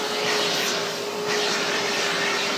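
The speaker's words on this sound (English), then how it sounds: "You like to be vacuumed." A vacuum cleaner runs steadily with a constant high whine while grooming a corgi, close and loud throughout with no break.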